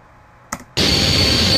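Harsh static noise from a game sound design project bursts in abruptly after near silence and a short crackle, then holds as a loud, steady hiss.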